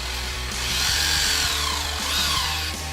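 A power drill boring into a wooden buffalo figure gives a steady high whine that rises and falls as the bit bites into the wood, over a low hum, with no talking.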